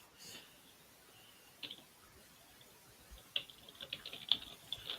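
Faint, scattered clicks of typing on a keyboard, sparse at first and then quicker taps, with no talking.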